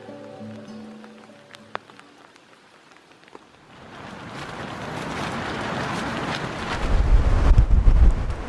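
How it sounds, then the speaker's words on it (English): Strong wind blows at a campsite in the Grand Canyon. It begins quietly and then builds into loud, rushing gusts that buffet the microphone. "because the wind, and it's still blowing pretty hard"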